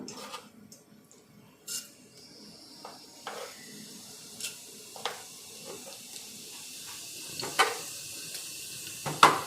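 Mustard seeds and cumin crackle in hot oil with sparse, sharp pops and short sizzling bursts over a faint hiss, close and fairly quiet, growing a little busier toward the end.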